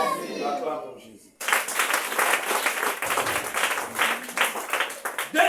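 A church congregation breaks into loud, sustained applause for Jesus after a spoken exclamation. The applause starts abruptly and keeps up as dense, steady clapping to the end.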